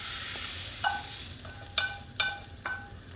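Vegetables for vegetarian japchae fry in a pan under a soft, steady sizzle, with four distinct metallic clinks of a utensil striking the pan spaced about half a second apart.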